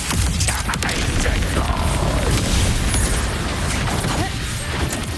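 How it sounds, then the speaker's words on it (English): A mortar blast in the Wuthering Waves video game, a loud, sustained booming crash with rumbling debris and clanking mechanisms layered over the game's mix. "Another mortar thrown at us."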